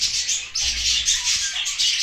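A pet budgerigar chirps and tweets continuously up close, bright high calls running together with no pauses and no voices.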